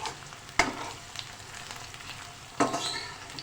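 Coconut powder sizzles and crackles in a hot pan with onion, garlic and ginger, a soft steady frying hiss broken by two sharp scrapes of a spoon stirring it.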